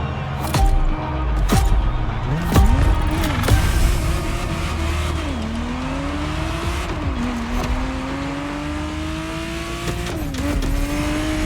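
A Ferrari Testarossa roars through the racing game The Crew Motorfest, its engine note climbing repeatedly through gear shifts with sharp tonal drops between, plus brief clicks and a faint tire squeal, all loud and close.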